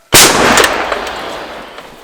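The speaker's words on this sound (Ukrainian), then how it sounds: "Гармата!" A single sharp, very loud blast of a howitzer firing at a frontline position, with a long rumbling echo that slowly fades away.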